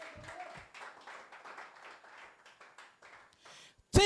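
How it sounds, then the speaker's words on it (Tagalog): Congregation at a church service clapping for the Lord, a quiet, steady patter of many hands spread across the room, ending in a brief loud thump. "Palakpak para sa Panginoon"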